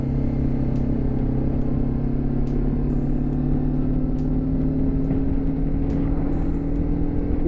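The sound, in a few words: BMW G310 GS motorcycle riding on road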